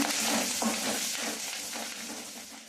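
Dried red chillies and curry leaves sautéing in hot oil for Chinthamani chicken, a loud, dense, steady sizzle close by that slowly eases over a few seconds, no voices.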